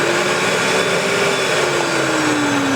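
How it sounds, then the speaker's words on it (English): A Mirka dust extractor vacuum runs steadily and loudly with a broad whooshing roar and a faint whine that slowly drifts lower in pitch. "You can trigger now this vac with this remote by pushing the button."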